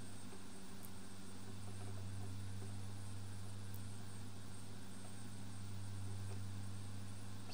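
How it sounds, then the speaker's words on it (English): A light aircraft on landing approach on a flight from Southend toward Gibraltar gives a steady, droning engine and propeller hum that stays constant and loud throughout with no breaks. "so we'll swing the plane straight, touch down, oh, a couple of times, flaps up"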